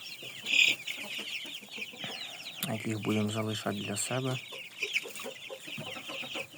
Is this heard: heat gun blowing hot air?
no